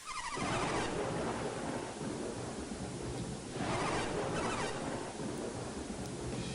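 Heavy storm in the Golden Sun video game, with a dense, continuous roar of rain and rumbling thunder that swells twice, loud and close with no talk.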